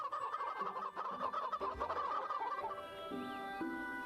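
Chicken clucking in the VRChat video game, rapid loud clucks and gobbling calls in a busy run that trails off into quieter tonal sounds.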